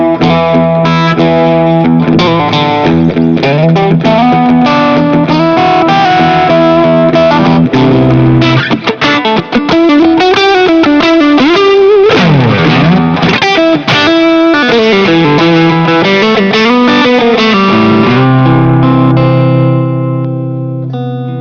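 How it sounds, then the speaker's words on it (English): Electric guitar through an LSL OG-OD overdrive pedal, a Tube Screamer-style drive, into a Friedman IR-D amp, played loud and close with crunchy riffs, sustained bent notes and wide vibrato, ending on a fading chord. "This is an LSL OG-OD, so like a tube screamer sound, just right in the same sound."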